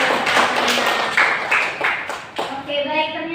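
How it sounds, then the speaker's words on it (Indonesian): Students in a classroom guidance session give a brief round of clapping, and a voice talks over and after the applause. "Oke, berikan tepuk tangan dulu."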